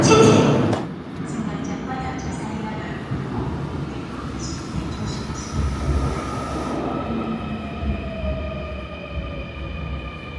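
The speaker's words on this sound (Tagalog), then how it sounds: "The train for Manchong is approaching." A subway train pulls into a station in Seoul: a loud, steady rumble of wheels and motors with drawn-out squealing tones. A high hiss cuts off partway through, and voices are audible faintly in the background.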